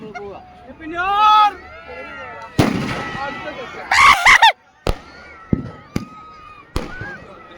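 New Year firecrackers go off in a series of loud, sharp bangs, several separate blasts spaced a second or so apart. People talk and shout between the explosions.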